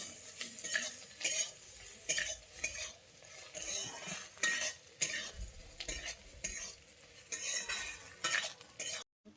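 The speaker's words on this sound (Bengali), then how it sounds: "পেঁয়াজ আর কাঁচা লঙ্কাটাকে এবারে ভালো করে ভেজে নিচ্ছি" Onion and green chillies frying in a pan: a soft background sizzle under frequent rhythmic spatula scrapes and stirs, fairly quiet and close, with no talk.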